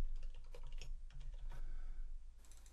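Computer keyboard typing while coding, a quick run of close, crisp key clicks at a fairly even pace over a low hum, with no voices.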